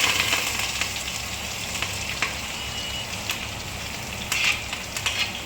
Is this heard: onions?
yes